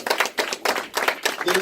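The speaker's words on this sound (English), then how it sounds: "y'all please give them a nice round of applause" Audience claps in uneven bursts at an activism honor ceremony, loud and close, with voices mixed in among the rhythmic surges of hands.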